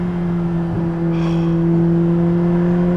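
Ferrari F8 engine under hard acceleration, a loud steady tone held close and continuous with a faint higher whine rising briefly midway, no talk over it.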